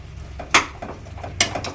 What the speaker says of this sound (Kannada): ತಿರ್ಗಿಸ್ಬೇಕು, ಕುದಿಯುತ್ತೆ